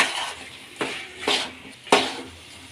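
A serving spoon clatters against a pan and bowl as apple gourd masala fry is dished out, making three or four sharp metallic clinks spaced apart with soft scraping between them, close up and with no talking.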